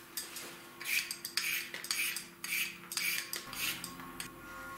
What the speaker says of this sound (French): Je pèle les carottes.